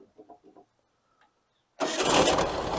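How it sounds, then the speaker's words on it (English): A VW Mexican Beetle's engine cranks and catches at once after a few faint clicks and a quiet pause, then runs loud and rough with a slight rev. "Just a quick start up and a little rev."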